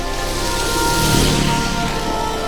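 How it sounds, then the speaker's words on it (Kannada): Steady monsoon rain falls with a dense, even hiss that holds at a constant level throughout, with no voices over it. "ಇಲ್ಲಿ ನೋಡಿರೋ ಮಕ್ಕಳರೆ ಮಳೆ ಐತಿ."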